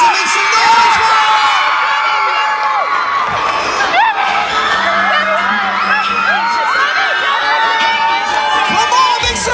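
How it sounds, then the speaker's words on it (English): A mall crowd of fans cheering for Debby Ryan, many high excited voices shrieking and whooping together in a loud, sustained roar, with a few shouts poking out above the din. "Come on, make some noise!"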